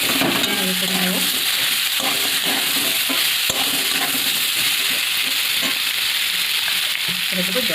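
Cut moringa drumsticks fry in hot spiced oil with ground coriander and fennel while being stirred. The hiss is loud and continuous, with spoon scrapes and knocks against the pan throughout.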